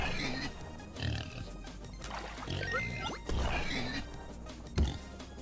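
Deep grunts and snorts come from the king pig boss in the video game Turnip Boy Commits Tax Evasion, a fertilizer-fed pig, repeating in spaced bursts over game music and effects, with a sharp louder grunt near the end.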